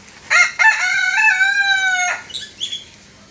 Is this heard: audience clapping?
no